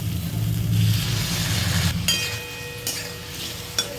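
Spice paste with Kashmiri chilli powder and slit green chillies cooks in a pan after a splash of water, sizzling steadily and loudly close up, with occasional stirring clinks of a utensil against the pan.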